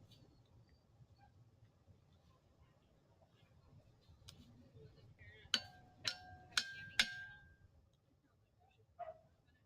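A dog barks four quick times in a row, fairly close and sharp, then once more a moment later, in a forge workshop with a low steady rumble and faint background noise before the barks.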